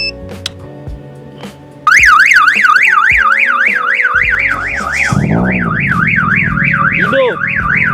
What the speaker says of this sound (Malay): Hidup, alarm pun hidup.